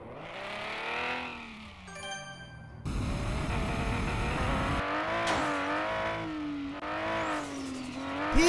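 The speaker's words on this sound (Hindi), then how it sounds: "चलो स्टार एग्जॉस्ट लगा दिया हम लोगों ने" A supercar engine revs repeatedly in a video game after a top-tier exhaust upgrade, loud rising and falling tones with a brief tire squeal, heard alone without talk.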